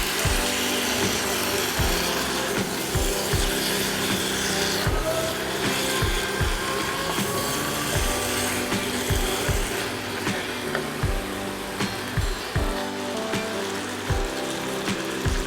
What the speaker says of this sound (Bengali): চিকেনটার সাথে মশলাটাকে আমি খুব ভালোভাবে মিশিয়ে নেব।